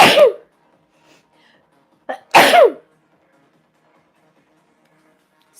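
Two sharp sneezes, the second preceded by a quick intake of breath, with near silence between them.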